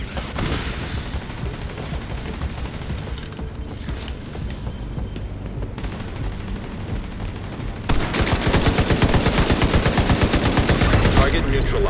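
A turret in The Division 2 fires continuous rapid gunfire that grows louder and denser in the last few seconds, with game noise layered underneath.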